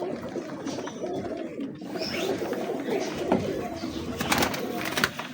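Pigeons, including Teddy, golden and Salkoti gulatu varieties, cooing softly in low repeated calls, with faint background noise.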